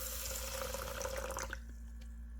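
Hot water is poured into a container for mixing with urea, a soft steady splashing stream that runs for about a second and a half, then stops, followed by faint drips in a quiet room.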